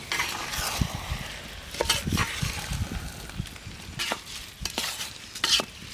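Chitti muthyalu rice being stirred into chicken biryani in a pot, a steady scraping and shuffling of grains against metal with soft sizzling underneath, moderately close, with no talking.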